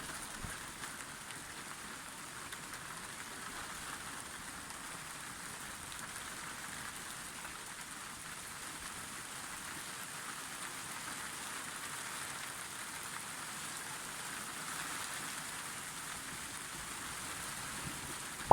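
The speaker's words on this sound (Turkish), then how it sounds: "dolu yağıyor şu anda. Anormal bir şekilde." Heavy rain mixed with hail pours down steadily and loudly on outdoor surfaces during a storm in Malatya, a dense continuous hiss with no voices.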